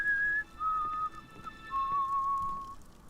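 A character whistles a slow, wavering tune in the video game Enderal: Shards of Order, a few sustained notes with short gaps, fairly faint over low background ambience and without speech.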